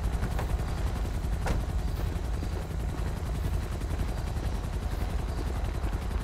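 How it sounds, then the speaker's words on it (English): A police helicopter in Grand Theft Auto 5 with the LSPDFR police mod, its rotor chopping steadily and loudly throughout, with sharp gunfire-like bangs mixed in. "The chopper going to crash up there?"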